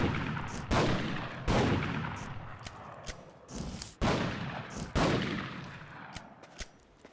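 Rapid bursts of video game gunfire from a newly learned class's weapon, several loud sharp volleys about a second apart with decaying tails, firing again and again with no talk over them.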